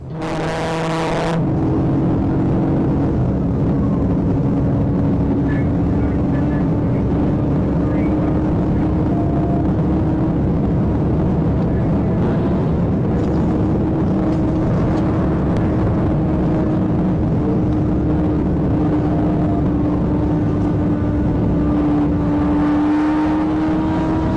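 A motorcycle flees police at high speed down a highway, its engine a loud, sustained roar with a steady pitch that barely varies, running continuously throughout.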